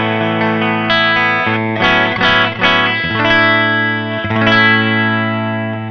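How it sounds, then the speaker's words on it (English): Electric guitar on a single pickup, played through the clean channel of a Laney VH100R amp: sustained chords and ringing notes with a few strummed attacks, loud and close, with no voice. "our one pickup through the clean channel sounds like this"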